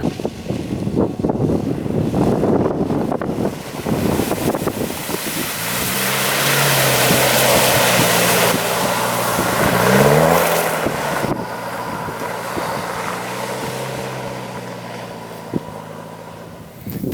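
Mitsubishi Pajero 4x4 with a 4M40 diesel engine on the move, gusty wind buffeting at first, then a steady close engine drone that swells briefly midway and settles, with no voices.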